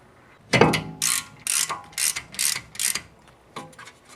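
Ratcheting clicks as a screw is driven back into a brake rotor on a BMW 3 Series (E30, E36 or E46) during a brake job, about seven short bursts in a steady rhythm, close and alone.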